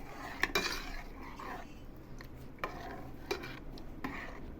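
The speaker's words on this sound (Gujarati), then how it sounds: "તેની અંદર ઠંડુ થયેલું બાસુંદી દૂધ એડ કરીશું હવે તેને મિક્સ કરીશું બરાબર" Cooled basundi milk is stirred into a mango pulp mixture in a pot, giving soft scraping swishes and several light clinks of a spoon against the vessel at an irregular pace, fairly quiet with no voices.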